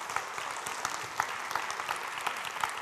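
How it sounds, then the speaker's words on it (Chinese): A lecture audience keeps clapping at a steady, fairly quiet level, many hands blending into a continuous wash with scattered sharper claps, with no talk over it. "我諗你哋係鼓掌俾一個講得非常好嘅司儀啫嚇"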